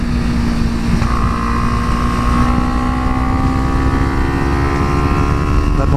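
Kawasaki Ninja 300 and Honda Grom motorcycles roll downhill on Angeles Crest Highway, their engines a continuous droning hum with a slowly shifting pitch, mixed with heavy wind rush on the microphone.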